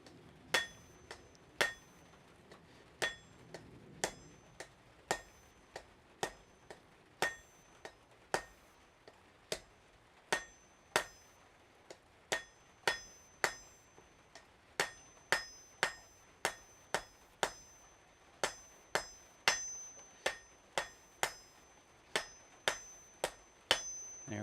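Steady hammer blows ring out in a smithy as hot metal is forged into a sharp taper on an anvil, each strike a bright metallic clang, repeating in a regular rhythm with occasional quick double taps and no talking.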